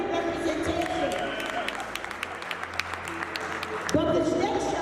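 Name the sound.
audience clapping at ceremony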